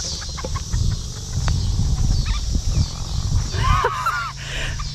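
A rooster named Carter on a family farm crows once, a clear, fairly close call rising over a steady low rumble of wind or handling noise, with scattered clucking and rustling of fowl around it.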